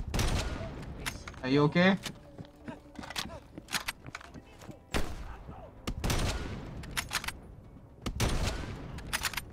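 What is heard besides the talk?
gunfire in the video game Call of Duty: Black Ops Cold War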